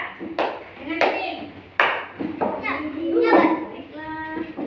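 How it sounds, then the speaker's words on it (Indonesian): Children in a classroom clap in a few short bursts of scattered applause, mixed with kids' voices chattering and calling out between the claps. "Ya, tepuk tangan"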